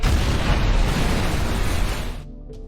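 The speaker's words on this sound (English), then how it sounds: "Ray detonates the C4, blowing himself and destroying the shipwreck." A C4 charge detonates to destroy a shipwreck in a zombie film, producing a loud, sustained booming roar that rumbles for about two seconds before cutting off abruptly.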